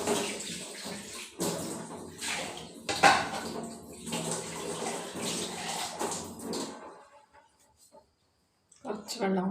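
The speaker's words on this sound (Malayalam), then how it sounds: "കുറച്ച് വെള്ളം കൂടി ചേർക്കാം." Water is poured into a pot of lentil and spinach curry, a close splashing pour in bursts with clinks of utensils, then a brief pause before more clatter; a voice talks over it.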